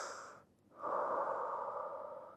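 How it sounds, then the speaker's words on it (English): Slow, deep breathing by an instructor during a fascial movement exercise: a breath drawn in, a brief pause, then a long, steady exhale heard close and alone. "Breathe in through the mouth and out."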